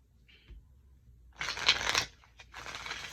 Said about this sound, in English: Just shuffle it a little bit.